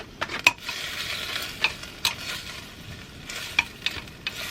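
Onions sizzle softly in a crock pot, a steady crackling hiss broken by sharp metallic clicks and scrapes of stirring.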